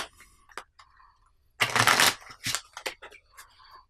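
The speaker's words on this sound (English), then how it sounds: "So go ahead and give my deck a quick shuffle." Trading cards from the Psi Wars collectible card game being riffled and shuffled up close, a sharp burst of rapid flutter followed by shorter snaps and taps.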